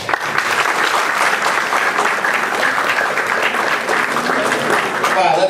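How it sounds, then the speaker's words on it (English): A crowd bursts into loud, sustained applause after a political speech, steady clapping close by with a voice briefly audible over it. "Let's give this young man a big round of applause."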